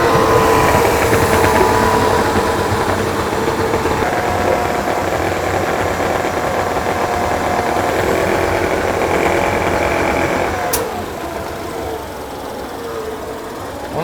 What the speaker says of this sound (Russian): Это первый запуск, до этого мы мотор не запускали.